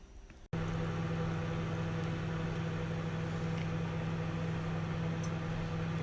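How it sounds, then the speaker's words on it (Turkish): A microwave oven switches on with a click after brief quiet, then runs with a steady loud hum while five cups turn inside, the drone unbroken to the end. "gördüğünüz gibi şu anda mikrodalgamız çalışıyor."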